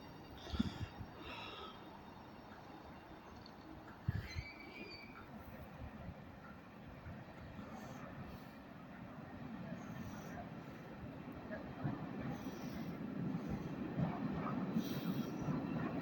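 Class 93 locomotive 93004 passing through Carlisle station on the West Coast Main Line: a steady, distant rumble of rail traffic that grows slowly louder, with faint squeals and clicks and someone talking quietly over it.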